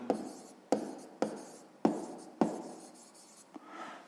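Pen strokes scratch across paper during a sixth-grade math exercise, coming as a series of five or six distinct, fairly quiet scribbling bursts in a regular rhythm with short pauses between them, no talking.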